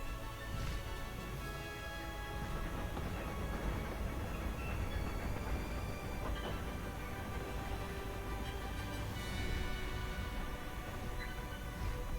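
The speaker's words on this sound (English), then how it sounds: "There's the Hogwarts Express." The Hogwarts Express train in the video game Hogwarts Legacy runs past with a steady, dense rumble and rattle that stays loud and even for the whole stretch, with no talk.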